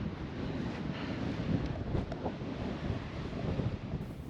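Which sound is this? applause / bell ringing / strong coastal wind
strong coastal wind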